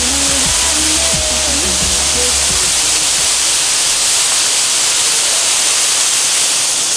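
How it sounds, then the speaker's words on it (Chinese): A rainy-season waterfall in Meishan, Chiayi, Taiwan, roaring as a loud, steady broadband rush of falling water with no break, faint tonal sounds near the start. "小九寨沟瀑布，雨季限定的瀑布"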